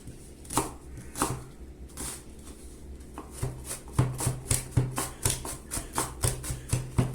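Onion chopped finely with a knife on a board for kısır, with a few slower cuts first and then a rapid, even run of close, crisp knife taps.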